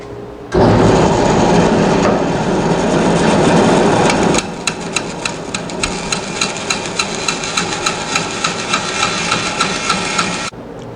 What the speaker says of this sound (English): I'm going to fire up old Thumpy and cut out this notch here from my handle